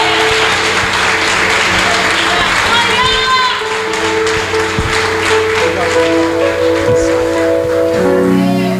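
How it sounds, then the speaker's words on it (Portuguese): A church congregation claps loudly in praise during an evening service, with sustained, dense applause and scattered thumps while voices and musical tones rise beneath and around the clapping. "As palmas louvam ao Senhor nesta noite."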